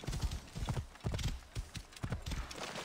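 Horse hooves clip-clop in a quick, rhythmic gallop through temple grounds in the video game Assassin's Creed Origins, with a short whinny mixed in among the close, steady hoofbeats.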